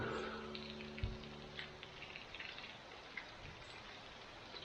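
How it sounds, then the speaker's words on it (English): Steady rain falls outside a veranda, a soft continuous patter with a few louder drips and taps close by, heard on its own without voices. "Just watching the rain come down."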